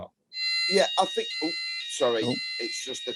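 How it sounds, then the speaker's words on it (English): A steady, high-pitched multi-tone alarm sounds continuously during an online business webinar, under several brief remarks from a man. "That's the alarm, isn't it?"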